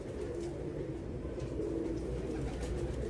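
Fancy pigeons coo softly from a loft under a steady low rumble of background noise, with faint chirps scattered through it.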